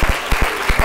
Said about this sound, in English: come on and clap your hands and give him some praise